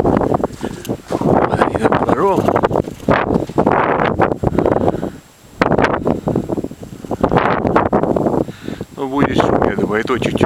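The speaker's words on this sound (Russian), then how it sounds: "Холодный северный ветер." Cold northern wind gusting at up to 10 m/s in a village in February buffets the microphone, a broad roar under a man's speech that drops briefly midway.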